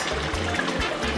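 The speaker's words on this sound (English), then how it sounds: "We're going to add water." Water is poured into a pot of echicha (achicha) as it cooks. Close, steady splashing and trickling comes in a few pulses, with low gurgles between them.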